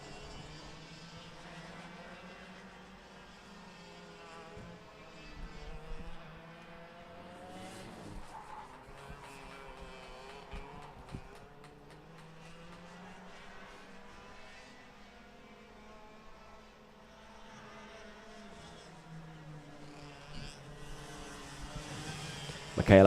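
Rotax Max racing karts sweep through a fast bend on a race circuit, their buzzing two-stroke engines rising and fading steadily as the pack passes, heard from a distance with a commentator talking over it throughout.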